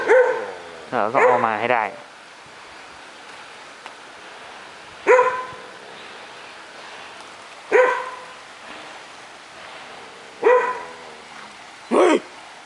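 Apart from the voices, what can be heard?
dog barking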